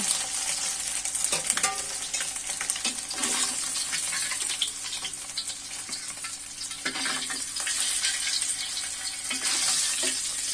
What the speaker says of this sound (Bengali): এভাবে আমি বাকি মাছগুলো ভেজে নিব।